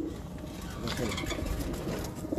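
Fancy breeder pigeons of the flowered kind coo steadily and close up, a dense, continuous murmur of overlapping low calls with no speech over it.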